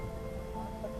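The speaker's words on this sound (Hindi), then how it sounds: "दिखाती हूँ बाहर कितनी तेज बारिश हो रही है" Heavy rain pours steadily outside an airport terminal in Chennai during a storm, a continuous dense hiss with no voices, lasting about a second.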